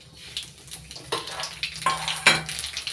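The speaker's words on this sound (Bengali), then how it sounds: "ফোড়নটা একটু ভালো করে ভেজে নেব।" Dried red chillies, black cumin and bay leaves sizzle in hot oil for a Bengali tempering, a close, uneven frying hiss with small pops and crackles.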